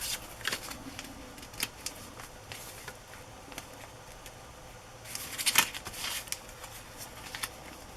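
Scissors snip through paper for a journal page in a few sharp, crisp cuts, close and fairly quiet, with one louder cluster of snips partway through.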